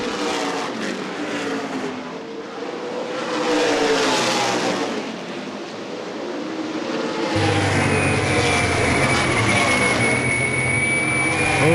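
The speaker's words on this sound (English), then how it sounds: "Final car on the lead lap, Jake Griffin, who's having a really good run from the back of the field today" Stock cars racing at Winchester Speedway in a CRA Super Series race, engines roaring loudly past with rising and falling pitch as the field sweeps by, then a steady high whine of cars circulating.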